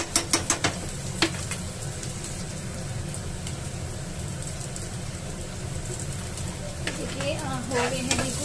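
Onions sizzling and being stirred in a pan, a continuous soft frying crackle with a few sharp utensil clicks near the start and end.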